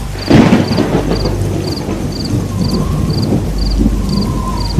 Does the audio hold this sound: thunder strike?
yes